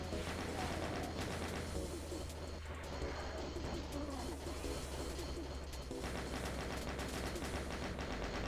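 Rapid chaingunner machine gun fire from the Doom II game, a dense continuous rattle of shots layered with other game effects and low drones, loud and steady throughout.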